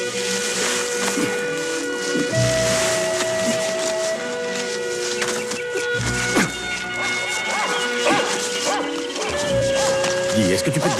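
Dogs bark and yip repeatedly amid other scene noise, with voices talking at times over the barking.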